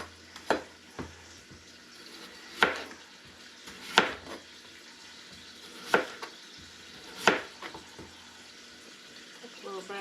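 Celery and carrots softening in a pot for clam chowder make a quiet, steady sizzle, broken every second or two by sharp scrapes and clinks as they are stirred.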